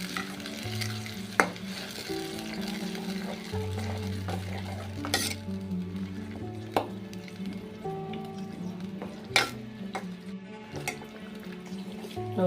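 Palak chana masala with its spices fries in oil in a pan while a spoon stirs it, giving a soft close sizzle with a scraping, knocking stir and sharp clinks against the pan, no voices.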